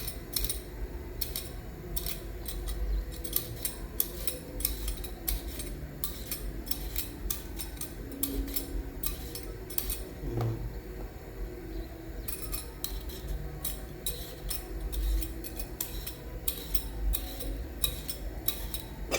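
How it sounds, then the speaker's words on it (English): A hand grater scraping the skin off food in a home kitchen, giving rapid repeated metallic rasping strokes in a steady rhythm, close and fairly loud with no voices. "So I have this grater to just, cut the skin off."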